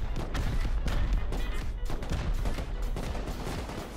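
Rocket launches and heavy explosions in the survival game Rust hit in a dense, continuous barrage of booms and blasts, loud and close throughout with no pauses.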